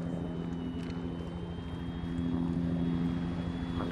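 An aircraft flying in ArmA 3, a steady droning engine hum with a high whine, holding constant and then swelling louder partway through.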